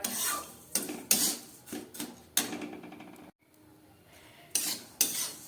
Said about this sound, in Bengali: তিলটাকে এবার আমি একটু ভালো করে ভেজে নেব